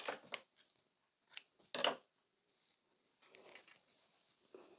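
Yarn being snipped with scissors while finishing an amigurumi duck, a few quiet close snips and rustles in short irregular bursts with gaps of silence, no talk.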